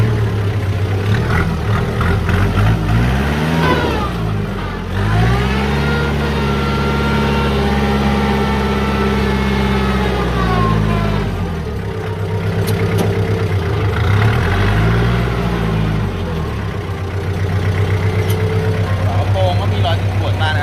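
A used Kubota M5000SU tractor fitted with a blade and rotary tiller runs at a steady idle, its engine note rising and falling a few times, while someone talks over it throughout.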